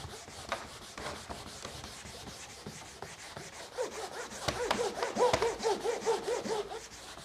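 Cloth rubbing furniture wax off an antique wooden surface in steady back-and-forth strokes, soft and close, growing firmer and louder in the second half.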